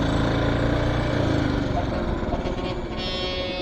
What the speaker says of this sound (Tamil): நமது புல்லட் வண்டி வருகிறார்.